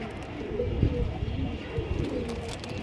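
Giribaz high-flying racing pigeons give low, murmuring coos close by, a continuous soft burble with a few thumps and faint voices in the background.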